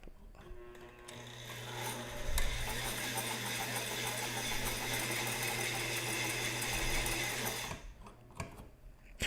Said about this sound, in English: is the sound of sewing annoying, or is it like too loud?